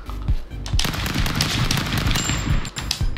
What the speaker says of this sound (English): You must have died from my machine gun.